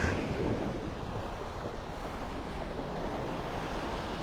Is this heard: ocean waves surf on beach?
yes